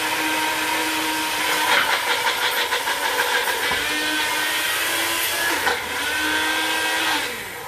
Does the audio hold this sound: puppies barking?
no